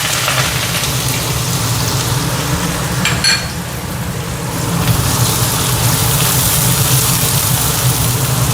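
Mustard seeds, cumin and asafoetida spluttering in hot oil in a home kitchen, a steady broadband sizzle and crackle that continues throughout with a brief dip near the middle, no talk over it.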